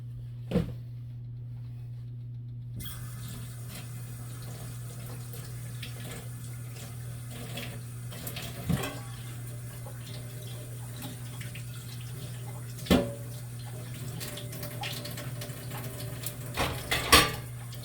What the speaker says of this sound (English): I'm pretty sure that I'm gonna have to wash this onion